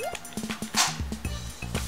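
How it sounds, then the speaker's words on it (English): Stardew Valley dogs brawl in quick game yips and barks, a rapid run of short, close bursts with a brief whimper, alone without talk. "Uh-oh, your dogs are fighting"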